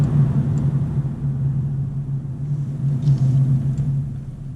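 A 2019 Lexus IS350 F Sport AWD accelerates on a snowy road. A steady, low engine rumble and road drone come from inside the cabin, fairly loud and even, with no talk.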